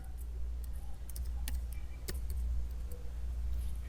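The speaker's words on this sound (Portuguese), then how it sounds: "nós vamos digitar aqui, ó, criar ponto de restauração" Typing on a computer keyboard while searching from the Windows 10 Start menu, heard as a few scattered, fairly soft key clicks over a low steady background hum, with no voices.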